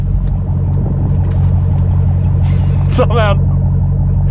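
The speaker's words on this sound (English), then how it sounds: "this is the first car where I actually get a little bit scared when I floor this thing" A Dodge Hellcat Jailbreak engine pulls hard at highway speed, around 70 to 80 mph, with a steady, deep, loud rumble throughout. A person speaks briefly over it.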